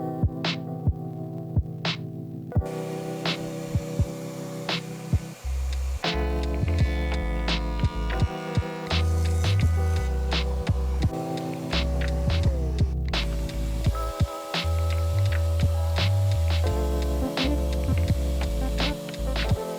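A shop vacuum runs with a Vortex cyclone dust collector fitted on a bucket, making a steady loud motor hum and drone with scattered sharp clicks and rattles of debris, without speech.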